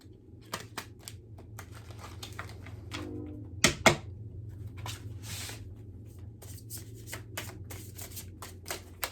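Tarot and angel cards being laid out, a steady run of soft card slaps and shuffling flicks over a faint background hum, with a brief sharper clatter near the middle and no one talking.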